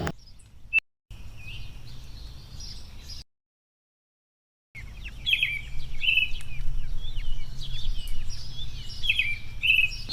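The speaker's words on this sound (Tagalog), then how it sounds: "naririnig ko yung mga ibon" Birds chirp in short, repeated high tweets against a steady outdoor hum, with a brief silent gap partway through before the calls resume.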